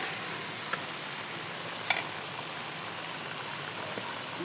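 Duck meat sautés with ground spices and a splash of water in a pan. A steady, soft sizzling hiss holds throughout, with a brief stir or clink near the middle.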